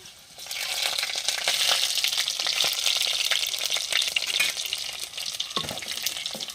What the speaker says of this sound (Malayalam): വെളുത്തുള്ളി ഇട്ട് കൊടുക്കാമേ ഒരു പച്ചമുളക് ഇട്ട് കൊടുക്കാമേ